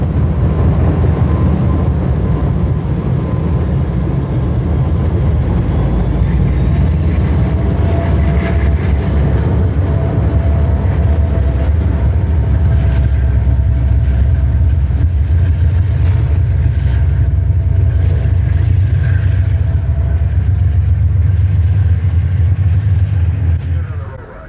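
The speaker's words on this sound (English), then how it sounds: "a westbound Santa Fe intermodal freight rolls by the steam special" Union Pacific Challenger 3985 steam special passing a westbound Santa Fe intermodal freight near the top of the grade on Cajon Pass; a loud, steady, close rumble of rolling rail cars and engines continues without a break.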